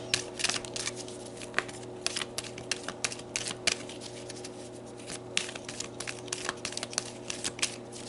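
Tarot cards being shuffled and pulled during a reading, giving a fast run of dry papery riffles and soft slaps over a low steady hum, with no talking.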